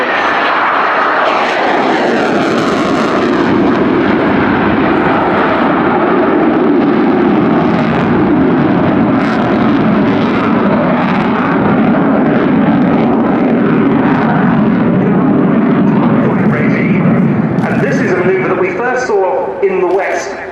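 A fighter jet powered by Lyulka Saturn AL-31F turbofan engines thunders past at an air show, a loud sustained roar that swells and shifts in pitch as it passes, with a commentator talking over it.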